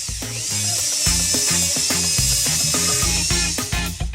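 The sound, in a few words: power drill used to try opening a cola bottle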